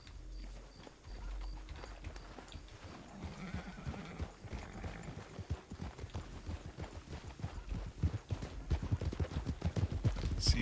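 Horse hooves clip-clopping in the video game Red Dead Redemption 2, a steady rhythmic patter that grows louder and busier, like several horses riding together, with no talk over it.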